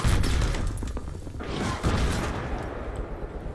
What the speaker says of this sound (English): They're on top, they're shooting rockets.